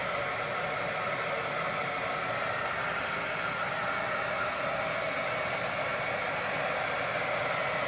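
A hair dryer blows steadily on freshly applied glow-in-the-dark paint on Halloween dancing skeleton decorations, a continuous close, even rushing whoosh with no pauses.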